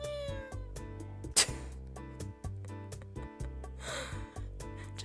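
A cat meows in the visual novel game Dandelion: Wishes Brought to You, short tonal cries rising out of steady looping game music, with a brief breathy sound between them.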